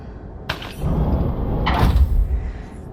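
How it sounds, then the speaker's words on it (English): A heavy metal door being pulled open in the space game Lone Echo 2, with a clank, then a long low grinding rumble and a second louder clunk as it slides, close and fairly loud. "I bet pulling that release handle will open this door"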